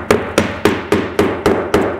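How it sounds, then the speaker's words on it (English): A hammer drives nails into asphalt roof shingles along a valley, seven sharp, evenly spaced blows in quick succession, loud and close, each with a brief ringing decay. "we're gonna nail just like we normally would."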